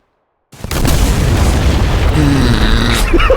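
A grenade blast in the Dagger Directive video game sets off a loud, sustained boom with rumbling debris that fills the few seconds after a short silent lead-in.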